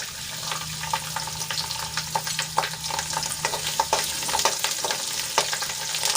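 Chopped garlic sizzles steadily in hot oil with cumin and asafoetida while radish-greens bhaji is cooked, with frequent crackling pops and occasional stirring scrapes, close and continuous throughout.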